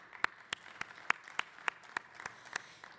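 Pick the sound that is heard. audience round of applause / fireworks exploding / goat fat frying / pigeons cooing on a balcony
audience round of applause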